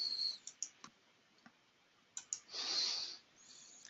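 Computer mouse clicks on a zip icon: a series of crisp, close, faint clicks, some in quick pairs, with a brief softer hiss near the end and no talking.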